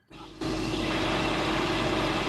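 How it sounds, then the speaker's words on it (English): A truck engine idles at a fuel island, rising from near silence into a steady, loud, low rumble that continues unbroken. "That's his truck running while he goes to take a piss."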